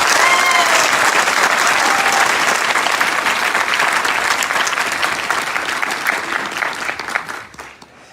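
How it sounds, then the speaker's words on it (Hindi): A large audience at an IMC event applauds loudly and continuously, a dense wash of clapping that holds steady and then tapers off near the end. "उनके लिए जबरदस्त तालियां हो।"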